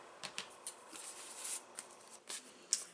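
Quiet, sparse snips and paper-like rustles while scissors cut out an in-the-hoop embroidered coin pouch key chain, roughly eight separate crisp cuts at an irregular pace, close and faint, no voices.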